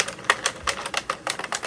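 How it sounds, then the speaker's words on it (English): A hand-cranked circular knitting machine clicks in a quick, irregular run of light, sharp mechanical ticks, close and steady, with no voices over it. "you can hear the clicking is a lot lighter"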